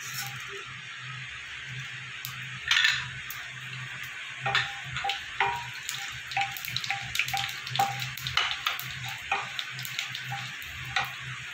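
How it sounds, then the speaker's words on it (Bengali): Fenugreek and black mustard seeds fry in hot oil for a tempering, a soft steady sizzle broken by scattered sharp pops and crackles, fairly faint and close. "ফোড়নে দেবো মেথি আর কালো সর্ষে।"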